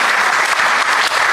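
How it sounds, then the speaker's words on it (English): An audience at a Premier Bank launch event in a JW Marriott hall applauds its panel, a loud dense wash of clapping filling the room without a break. "another round of applause, ladies and gentlemen"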